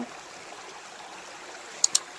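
A forest stream flows steadily through dense jungle, a soft continuous rush and hiss of water with a couple of brief sharp clicks near the end.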